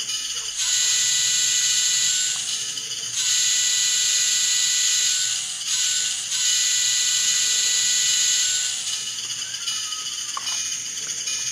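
Atlas Classic RS3 model locomotive fitted with an MRC DCC sound decoder, its diesel engine sound a steady loud hiss-like drone with a bright tonal whine, briefly dipping twice as it throttles down, running continuously and close.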